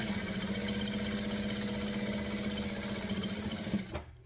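A sewing machine stitches a decorative detail down the side of a mookibii sewing project, a steady close mechanical hum with a rhythmic needle buzz that stops abruptly near the end.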